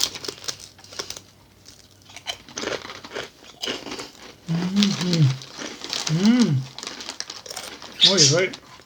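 Crunchy mayonnaise-flavored Colombian potato chips being bitten and chewed up close, with crisp crackling bursts that come louder in the second half, while a person talks between bites.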